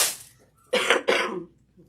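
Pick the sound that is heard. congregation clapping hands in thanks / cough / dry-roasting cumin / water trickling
cough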